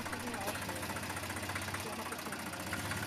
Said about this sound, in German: Deshalb dreht der Traktor und auf der Rückfahrt geht die Ernte weiter.